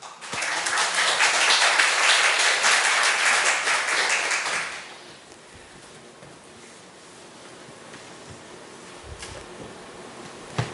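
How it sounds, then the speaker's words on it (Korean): A church congregation gives a dense burst of applause to welcome the pastor at a Sunday worship service. The clapping is loud for about four seconds and then drops away into quiet room noise. "하나님 앞에 영광의 박수 올려드리겠습니다"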